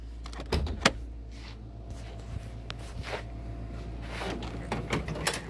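Someone pops the hood of a Pontiac Fiero, making a few sharp clicks and clunks of the release and latch, close and moderately loud, then quieter handling sounds.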